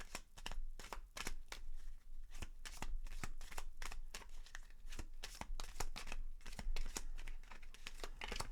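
Romance angel oracle cards shuffled by hand close up, a continuous papery riffling with rapid soft slaps and flutters in a steady rhythm.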